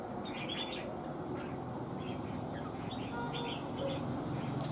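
Red-whiskered bulbul (chào mào) calls, short bright chirps repeating in clusters against steady low background noise, faint and somewhat distant.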